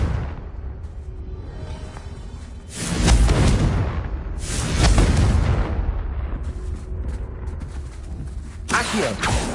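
A Confringo blast from a wizarding video game erupts in two heavy, rumbling booms a few seconds apart, loud and close, followed by a sharper burst near the end.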